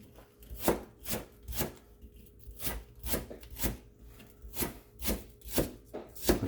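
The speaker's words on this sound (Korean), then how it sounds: "대파 보기 좋은 떡이 맛도 좋다고 버섯 썰기로 최대한 예쁘게 썰어 보겠습니다" A knife slicing green onion and mushrooms on a cutting board, about a dozen steady, evenly spaced chopping strokes, close and clear with no talk.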